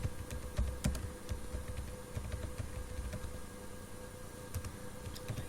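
Rapid, steady typing on a computer keyboard, close and continuous with dense clustered key clicks and a few louder strokes, no voices.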